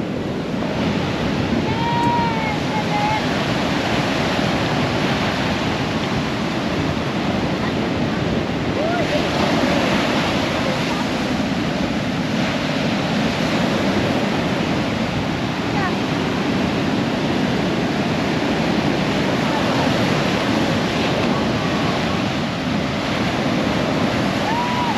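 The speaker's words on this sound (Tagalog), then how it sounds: "Kaso nga lang, ayan, malakas yung alon." Strong ocean waves crash and surge continuously at a beach in Bucana, a loud unbroken roar of surf mixed with wind buffeting the microphone.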